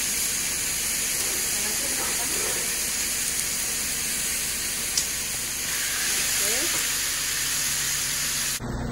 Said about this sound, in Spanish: ahora la vamos a poner a dorar